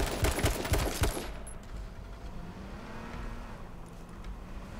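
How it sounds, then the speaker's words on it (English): A burst of rapid gunfire in an H1Z1 King of the Kill match, dense cracking shots packed into the first second and a half, then a low steady rumble of game ambience with no voices. "They're shooting it out up here."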